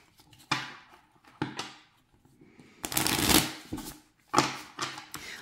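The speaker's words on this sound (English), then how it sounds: "I haven't shuffled it enough to get them out of sequence" A deck of oracle cards, thinner than standard playing cards, being shuffled by hand in close, loud bursts of riffling and sliding with short pauses between them.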